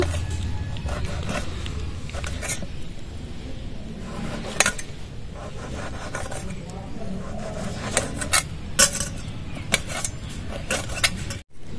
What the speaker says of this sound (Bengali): এবার চাকু দিয়ে কেটে নেব।